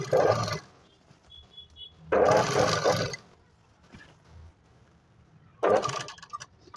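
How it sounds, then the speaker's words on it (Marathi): A sewing machine topstitches the edge of a katori blouse, running in three loud whirring bursts separated by quieter pauses with small clicks. "तर दाब शिलाई मी आतल्याच बाजून टाकते."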